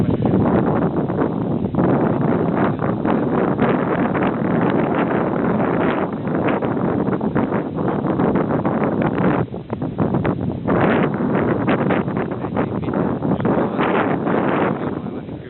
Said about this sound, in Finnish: Kyllä täällä aika kylmä tuuli jo